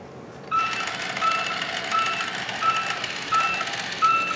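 Reversing beeps from a Vtech Switch & Go Dinos toy truck: a steady electronic tone repeating at an even pace, about five short beeps over a whirring toy motor, close and fairly loud with no talking.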